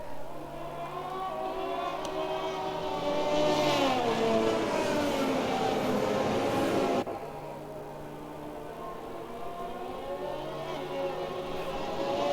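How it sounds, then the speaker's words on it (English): Formula 1 race car engine in an Xbox F1 video game at the Emilia Romagna Grand Prix, a loud sustained high-pitched whine that rises and falls with revs, dropping off abruptly partway through and then continuing more steadily. "As you could cherish the engine noises there a little bit."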